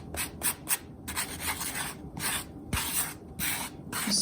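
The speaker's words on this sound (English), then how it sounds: "you can go ahead and just take a little sanding block and just sort of sand away those rough edges" A small sanding block scrapes back and forth against the rough edges of a concrete candle jar in short, repeated strokes, close and distinct with brief pauses between passes and no speech.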